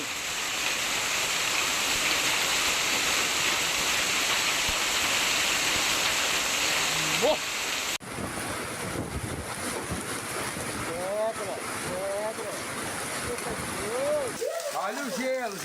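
A heavy hailstorm in Uberlândia, Brazil, a dense, constant roar of hail hitting surfaces, loud and close, with excited voices speaking over the din in the later part.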